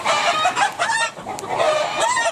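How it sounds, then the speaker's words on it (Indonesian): Chickens cluck busily inside a chicken coop housing fighting roosters and ornamental hens, close and loud, with overlapping bird calls and what sounds like a rooster's crow rising among the clucks. "beginilah ibu bapa kalau kita masuk ke kandang ayam"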